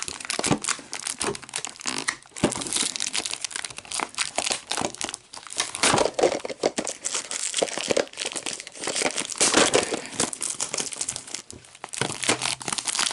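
Plastic wrapping being torn and crinkled off a blank Sony L-500 Betamax tape, a close, busy stream of crackling and ripping that runs continuously without pauses or voices.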